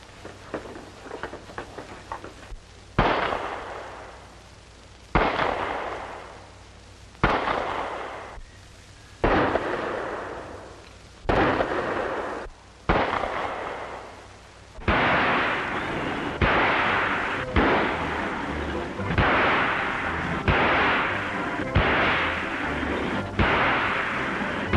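Gunshots ring out at police shooting practice, a series of about ten loud, sharp reports spaced a few seconds apart, each followed by a decaying echo, coming faster toward the end.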